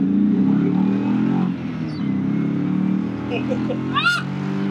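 An LS1 V8-swapped Mazda Miata pulls hard, its deep engine roar steady and loud inside the cabin before easing off slightly, with a brief high squeal near the end.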